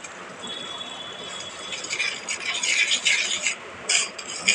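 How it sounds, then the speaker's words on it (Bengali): Biryani masala being stirred and fried in a pot, with a continuous gritty scraping and sizzling texture that swells louder midway, close and alone. "আমি মশলাটা কষিয়ে নেব।"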